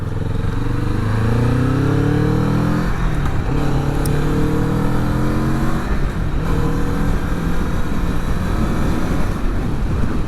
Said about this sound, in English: When I open up the throttle like that, at least I can hear some sound